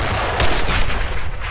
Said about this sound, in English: It's like a mortar fire now. They must have gotten around us and set up an MG on our flank!